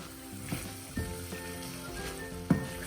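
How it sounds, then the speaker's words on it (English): Oil sizzles steadily in a pan while aubergine fries, with a few soft clinks and stirring knocks from a utensil. "I am just frying the aubergine, so that aubergine doesn't absorb that much oil"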